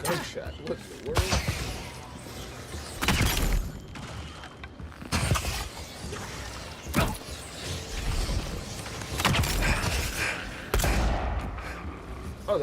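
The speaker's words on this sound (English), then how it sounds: "Oh, that was a gunshot." Gunshots ring out in the fantasy video game Avowed, several sharp loud bursts spread across the scene amid game sounds, with a person talking over them.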